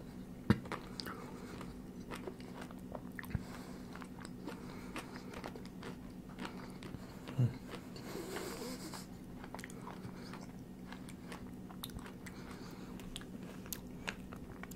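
Close, quiet bites and chewing on trompe-l'oeil pastries, with soft crunches scattered over a steady low hum and no talking.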